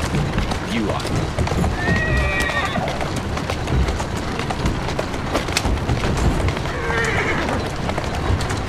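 In the video game Assassin's Creed Syndicate, a horse whinnies twice amid rapid clip-clopping hooves and rumbling carriage wheels, loud and close throughout, with someone talking over the racket.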